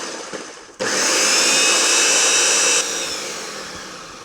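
A blender whirs loudly on poke taco ingredients, starting abruptly, holding a steady high-pitched motor whine for about two seconds, then easing down as it winds off.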